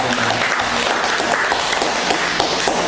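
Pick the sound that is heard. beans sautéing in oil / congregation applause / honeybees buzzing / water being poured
congregation applause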